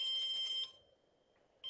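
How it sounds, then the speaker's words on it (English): A toy book's Morse code page gives off a high electronic beep, one long tone that stops and then starts again after a short pause, clear and close with no talking. "This page beeps in Morse code,"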